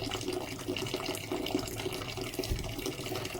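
Continuous rush of sparge water pouring during beer brewing, a close, steady wash of liquid with no talking.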